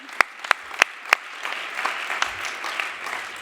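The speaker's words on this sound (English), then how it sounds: "A clap to her. A clap to her." Audience applause at a talk honouring the founder of FidAR opens with four sharp, loud single claps, then swells into softer, scattered clapping from a crowd.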